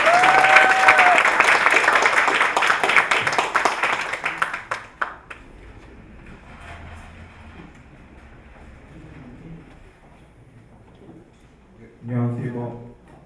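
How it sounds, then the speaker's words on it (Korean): An audience applauds loudly at a student gathering, a dense burst of clapping for about five seconds that then dies away into room noise, followed by a short voice. "여러분 큰 박수 부탁드립니다"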